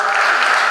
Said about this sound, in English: A big round of applause for Dr. Law